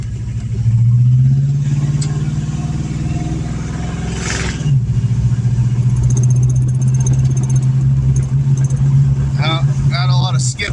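A 1990 Fox body Mustang LX engine misfiring as it drives, a steady low drone that hangs and dips with uneven revs, heard up close from inside the car while someone talks over it.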